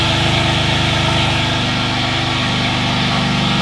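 A Ford Bronco Raptor engine idles loudly and steadily with a rough, pulsing low rumble, heard up close with no talking.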